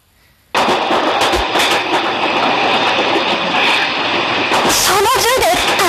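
A train runs along rails in a video game, a loud steady rumble that starts abruptly after a brief quiet moment and continues throughout, with a tonal squeal or chirping rising near the end.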